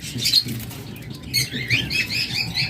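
A super-tame pet bird, the female of a pair of tiya pakhi or moyna, giving soft chirps alongside light fluttering and pattering movement close by.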